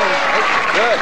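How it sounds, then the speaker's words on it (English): A crowd applauds steadily at a candlepin bowling match, brief and fairly loud clapping. "good round of applause for Graeme Lassen"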